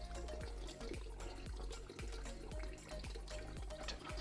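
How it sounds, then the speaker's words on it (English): Harvested rainwater runs from the tap of a large storage drum filled from gutters, a steady loud rushing flow with faint rhythmic knocks in the background. "So that's the tap flowing with water there."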